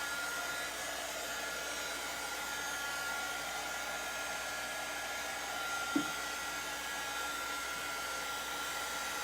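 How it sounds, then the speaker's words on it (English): An embossing heat gun blows hot air in a steady, continuous whoosh close by, with one small click partway through and no talking. "This is an embossing heat gun."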